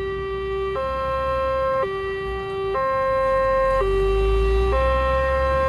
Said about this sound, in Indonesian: Sirene JPL berbunyi.